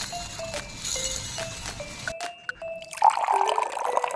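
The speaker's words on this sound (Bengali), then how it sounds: "জল দিয়ে এবার এটাকে ভালোভাবে ধুয়ে নিব" Red lentils are washed in water, with soft trickling and splashing that swells into a louder sloshing rush near the end, close by and without talk.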